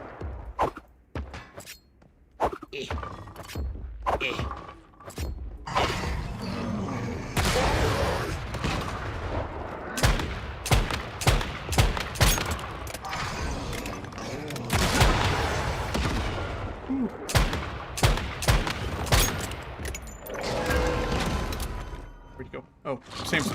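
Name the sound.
missile and gunfire in Once Human video game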